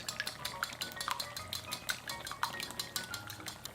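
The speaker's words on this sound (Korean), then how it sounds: "달걀 두 개를 풀어주세요" Two eggs whisked briskly in a bowl, a quick run of light clicking strokes against the sides with a faint simmering hiss beneath, no one speaking.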